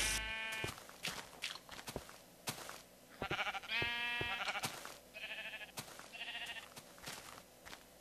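Several synthetic sheep bleats from a video game repeat at irregular intervals, some wavering and drawn out, over faint clicking steps; no one speaks.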